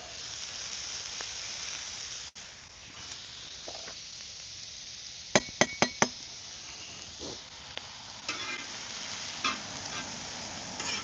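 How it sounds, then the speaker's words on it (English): Steady quiet sizzling and frying hiss from food searing in a pan on a wood-burning stove, with a few sharp clicks and knocks partway through. "We getting some good frying. Y'all hear that sear on there?"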